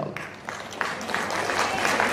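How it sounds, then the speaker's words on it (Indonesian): An audience at an Islamic religious lecture claps in a loose, scattered patter that builds slightly over two seconds, moderately near, with some voices mixed in. "Dari tepuk tangannya macam tak yakin"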